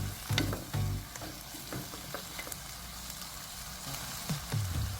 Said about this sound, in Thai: อ่ะแล้วก็ผัดทุกอย่างให้ละลายเข้ากันให้หมดครับ